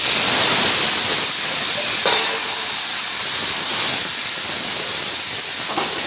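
Greens dropped into hot oil tempered with nigella seeds, dried red chilli and garlic give a steady, loud sizzle and hiss that holds evenly throughout with no talk.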